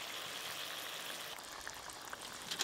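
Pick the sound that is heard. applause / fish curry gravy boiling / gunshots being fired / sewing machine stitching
fish curry gravy boiling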